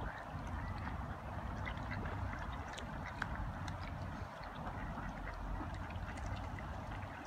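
Ducks quack and chatter continuously in a busy, noisy outdoor scene, the calls steady and fairly close, with a low rumble of background noise underneath.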